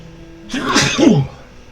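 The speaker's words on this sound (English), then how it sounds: "sneeze coming." A single person's sneeze, a short sharp burst with a brief inhaled lead-in and a voiced tail, close to the microphone against a quiet room.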